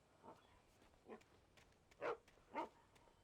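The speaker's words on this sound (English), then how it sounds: "I hear a friendly doggy." A friendly dog barks in the video game Alan Wake, with four short woofs, two soft and two louder, spread over about three seconds against quiet ambience.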